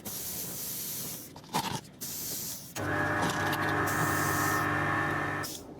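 Airbrush spray hisses onto a model railway wagon in short bursts with brief pauses, then settles into a steady, close hiss with a faint compressor hum beneath, ending abruptly.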